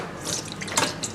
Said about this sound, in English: use a soup ladle to scoop up the liquid and drain it into a sieve